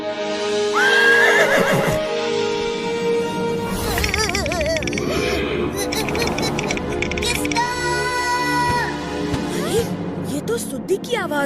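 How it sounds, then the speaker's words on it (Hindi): A horse whinnies repeatedly in long, wavering neighs alongside clip-clopping hooves, in an animated cartoon scene with characters talking over the sounds. "घोड़ा।"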